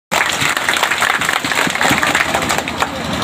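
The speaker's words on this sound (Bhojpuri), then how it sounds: "तब तक ताली बजा दो।" A gathered crowd claps after a speaker's prompt at a community meeting, a loud, close burst of many hands that starts abruptly and keeps a brisk, uneven patter throughout, with no talking over it.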